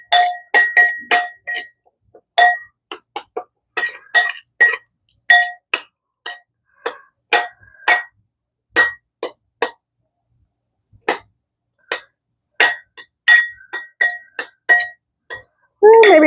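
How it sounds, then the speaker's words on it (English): Spoon clinking against a bowl while taco ingredients, including onion, are stirred for sheet pan tacos: a long series of sharp, bright taps in irregular bursts, close and fairly loud, with no talking. "then we're going to stir this up"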